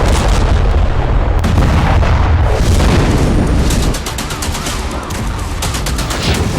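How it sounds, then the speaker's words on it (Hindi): Dense rolling booms and crackling blasts from Ukrainian attacks in the Russia-Ukraine war, continuous and loud throughout, easing slightly toward the end, with no talk. "ट्रंप के वेलकम में हुई यूक्रेन की बारूदी आतिशबाजी देख लीजिए"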